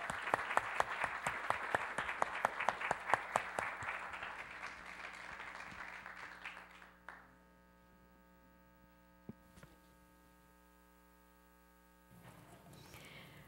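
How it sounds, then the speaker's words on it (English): Hand clapping from a gathered audience applauding a group of young children, starting as distinct loud claps, swelling into dense applause, then fading after about seven seconds into a steady electrical mains hum with a few stray sounds. "Let's give them a hand clap."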